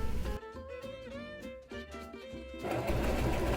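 A sewing machine stitching together pieces for a T-shirt quilt, a steady whirring run with tonal hum and a rougher mechanical rattle toward the end.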